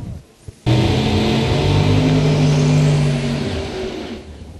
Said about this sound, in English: Parker on the lane side of that 71 Demon. Family race car.